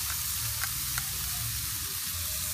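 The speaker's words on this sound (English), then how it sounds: "Let it sear for a couple minutes on that side." Steaks, filet mignon and ribeyes, sear in a hot pan with a steady close sizzle and crackle, a few faint ticks rising over the constant frying hiss, with no talking.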